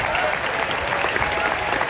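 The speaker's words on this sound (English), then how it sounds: "applause." A crowd of spectators claps in a steady, dense round of applause for Disney's Hollywood Studios cast members, continuous and fairly distant throughout the short burst.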